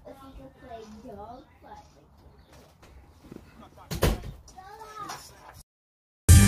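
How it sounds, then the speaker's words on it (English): A door shutting indoors, a sharp thump near the end after a short silence, following talk and a brief earlier bang. "And close the door, please."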